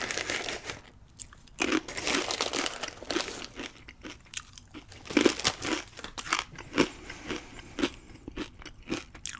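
Hormel corn nuts are crunched and chewed close up, giving repeated sharp, crackling bites in an irregular rhythm with quiet gaps between them.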